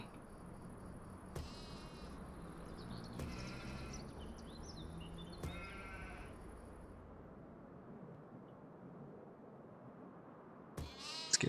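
Sheep on a farm estate bleat several times, faint and somewhat distant, over a low background hum with insects buzzing; a last louder bleat comes near the end.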